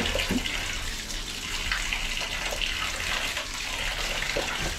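Steady water running into a sink while dishes are washed, a continuous close splashing rush with scattered small clinks and no break.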